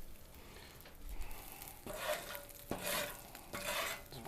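A metal spatula scrapes and stirs cooked onions on a hot Blackstone griddle, with steady sizzling underneath and several firm scraping strokes close up; no talking.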